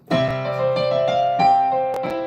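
Sustained piano chords ring out with a few fresh strikes, loud and close, as a new phrase begins on the tonic; no voices.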